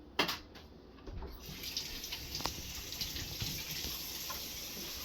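Tap water runs into a sink while a scallion is rinsed underneath it, a steady splashing stream with small irregular spatters as the stalks are moved around, close and without talk.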